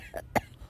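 A person imitates a camel's cough with a single short, harsh cough burst, preceded by a faint throaty catch, close and fairly quiet.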